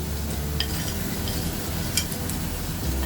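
Lentil dal with chopped green chilli, bay leaf, garlic, onion, salt, turmeric and chilli powder is stirred in a pan, a soft continuous sizzle with occasional light scrapes of the spoon, close and steady.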